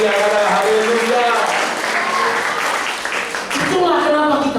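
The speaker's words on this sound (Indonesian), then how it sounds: "Berikan tepuk tangan yang meriah, haleluya." Energetic applause from a church congregation during a sermon, a dense, steady clapping wash that dips briefly and swells again, with tonal voices or music lines faintly underneath.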